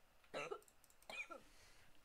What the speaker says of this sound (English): Cough, sorry.